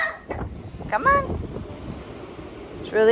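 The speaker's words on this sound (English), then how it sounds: "It's really windy out today." Gusty spring wind buffets the microphone outdoors as a low, uneven rumble, with a child's and an adult's voices speaking close by.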